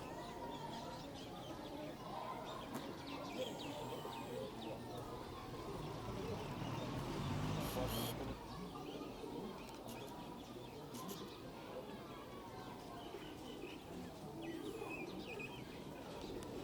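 Teddy pigeons in a breeder setup cooing softly in the background, low and faint under someone speaking throughout.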